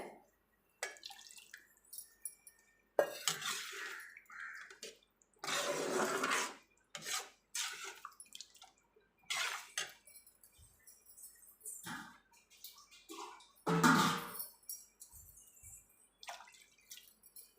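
Water poured into a pot of sambar on the stove, splashing in several separate bursts and gurgles with quiet gaps between them, close and fairly clear with no voices.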